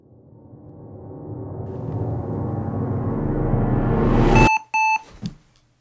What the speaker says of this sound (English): Made 2 beeps though, which means probably something's dead.